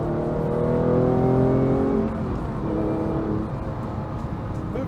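A Porsche 911 GT3 Clubsport race-derived engine revs hard, its rising harmonics climbing sharply for about two seconds before easing to a steadier, lower drone close to the microphone, with no talking.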